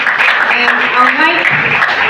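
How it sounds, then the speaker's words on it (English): An audience at a talk on sickle cell disease claps for itself, a loud, continuous wash of clapping hands close by, with a voice speaking over it. "Please clap for yourselves"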